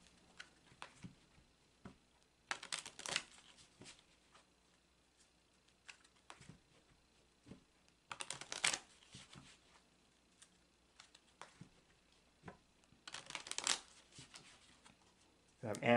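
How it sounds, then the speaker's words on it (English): Tarot cards being shuffled in three brief riffling bursts between quiet stretches, close but soft. "that sound you're hearing is me shuffling the cards"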